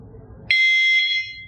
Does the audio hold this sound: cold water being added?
no